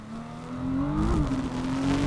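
Formula V6 Asia race car engines rev and howl at close range, a rising whine that swells and shifts pitch through a gear change as the cars accelerate past.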